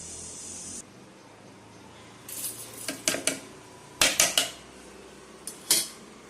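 Drained soaked rice tipped into a steel mixer jar, giving several short clattering, rattling bursts at close range with quiet gaps between them, no voices.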